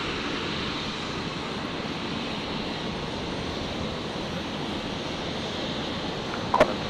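Qantas flight 633 powers up for its takeoff roll on runway 01 right at Brisbane International, a steady broadband jet roar heard from a distance with no talk, ending in a couple of brief sharp clicks.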